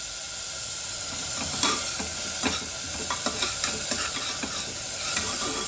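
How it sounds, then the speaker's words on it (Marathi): Onions frying in a pan for a dhaba-style whole masoor curry, giving a steady hiss and sizzle throughout, broken by a series of spoon-stirring scrapes, close and moderately loud, with no voices. "कांदा छान भाजून घ्यायचा आहे"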